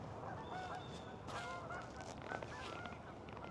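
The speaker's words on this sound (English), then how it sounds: "As them geese, they want to make a scene before they leave." A flock of geese honks by a reservoir during a fishing outing: repeated overlapping calls, fairly distant and steady, over a constant outdoor background with no talking.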